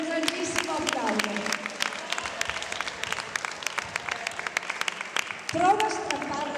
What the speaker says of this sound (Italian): per il quale chiedo anche un grandissimo applauso